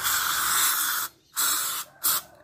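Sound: spray cleaner being sprayed on a car part

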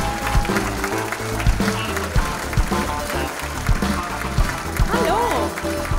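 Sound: audience applause for comedian

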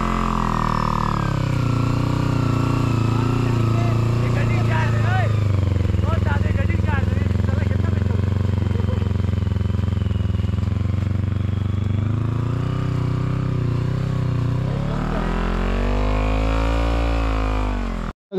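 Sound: motorcycle coming down from a glacier

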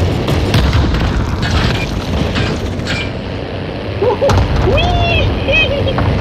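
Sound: grenade explosion in video game Call of Duty Warzone

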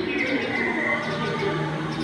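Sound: bird calls at a museum exhibit

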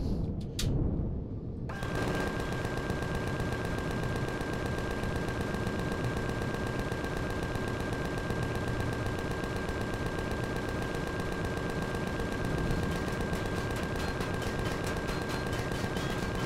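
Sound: ion cannon firing in video game

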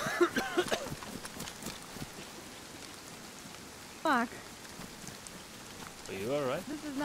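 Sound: heavy rain in video game DayZ

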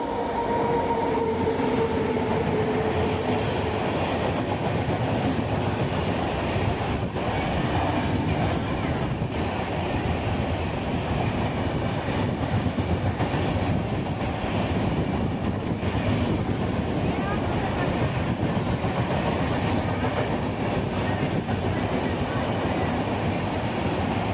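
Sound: superfast express train arriving at Ongole railway station

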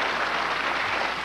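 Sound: audience applause

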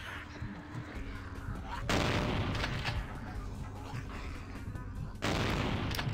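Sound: gunfire from the video game Vampire the Masquerade: Bloodlines

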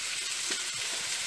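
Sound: frying roughly chopped ingredients in oil for prawn gassi

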